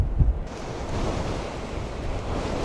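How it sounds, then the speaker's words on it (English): Strong wind buffets the microphone in heavy gusts, with surf roaring along the shore beneath it and no voices, on the Jurassic Coast between Sidmouth and Salcombe Mouth. "it's so windy"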